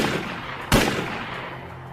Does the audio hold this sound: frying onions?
no